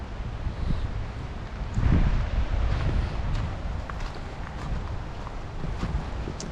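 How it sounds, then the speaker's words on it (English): Strong wind gusting outdoors near a sawmill, broad rushing roar with buffeting swells and microphone rumble, loudest in one gust early on, no talking. "we are having some pretty good gusts here"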